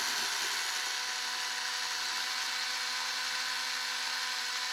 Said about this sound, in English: So you have to listen to my power tool here drilling away forever.